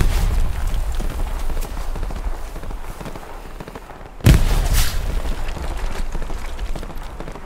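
A single sharp, loud grenade blast goes off midway through a Hell Let Loose battle, followed by a short burst of echoing rumble and distant firing over continuous low battlefield noise.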